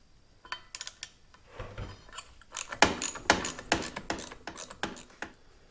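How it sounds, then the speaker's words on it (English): Metallic ratcheting and clanking as a wrench works a 19mm bolt loose on a Can-Am XMR 850 during a Dalton clutch kit install, with sharp close clicks and clunks in bursts, busier in the second half. "And I'll take the bolt back out."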